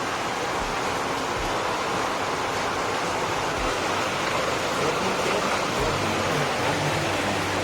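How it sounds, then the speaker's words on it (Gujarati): Heavy rain pours down in a steady, dense, unbroken roar that fills the whole stretch evenly, with no voices over it. "અત્યારે અમારે આવી ગયો છે વરસાદ"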